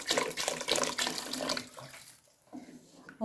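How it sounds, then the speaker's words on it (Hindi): Water pours steadily into a cooking pot of beef bone curry being prepared for a pressure cooker, a close splashing stream that stops briefly, then resumes softly. "अब थोड़ा सा पानी और ऐड करती हूँ"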